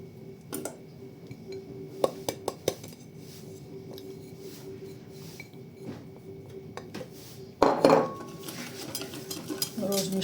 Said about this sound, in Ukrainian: Розітремо жовток з молоком.